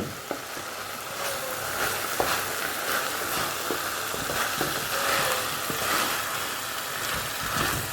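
Masala is sautéed in oil in a pan, a steady moderate sizzle and hiss with occasional sharp ticks and clinks of stirring, continuous throughout without voices.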